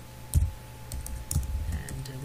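Keystrokes on a computer keyboard while entering C code: a few distinct clicks and taps in an uneven rhythm, close by, with a quiet background hum.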